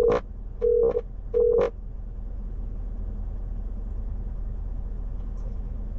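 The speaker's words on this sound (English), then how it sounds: "I can make a phone call." A car's CarPlay head unit, a BT12 unit, sounds three short electronic dialing tones as a phone call is placed, followed by a steady low hum of the car cabin with no voices.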